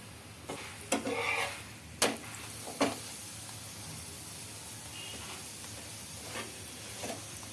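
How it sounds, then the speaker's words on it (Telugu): An onion wheat-flour flatbread fries in oil on a pan, with a soft steady sizzle under several sharp scraping and clinking knocks of a utensil turning and pressing it, close and fairly quiet, without talk. "తిప్పుకుంటూ బాగా కాల్చుకోవాలి అటు ఇటు రెండు వైపులా"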